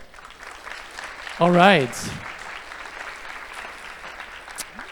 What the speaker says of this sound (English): So a round of applause to that as well.